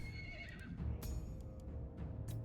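Horses neighing in the Warhammer video game, a couple of clear whinnies with faint hoofbeats underneath, heard at a low level without any talk.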